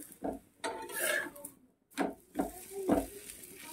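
Methi paratha fries in a little oil in a pan, with scraping and clinking of a spatula against the cookware in short uneven bursts and a faint sizzle underneath, fairly quiet and close.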